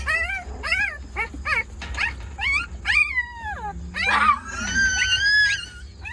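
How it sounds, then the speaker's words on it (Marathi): Puppies and their mother dog bark and yelp in quick, excited bursts, breaking into high whimpers and whines, close by and fairly loud. "कुत्री"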